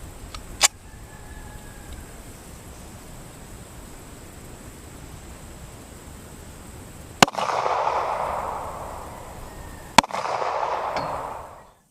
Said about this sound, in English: just shot the 45 ACP jacketed hollow point